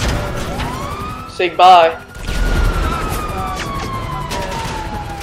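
A wailing emergency siren from a fast ambulance in GTA 5 sweeps up and then holds, close and loud, while someone talks briefly over the game noise.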